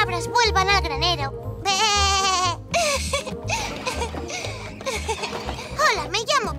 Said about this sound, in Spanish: Es hora de que las cabras vuelvan al granero.